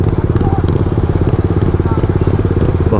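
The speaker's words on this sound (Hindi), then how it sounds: "आयुष्मान की बाइक बंद हो रही है" A motorcycle engine sputters and stalls while idling near a roadside police stop, its uneven, chugging pulses close and loud throughout.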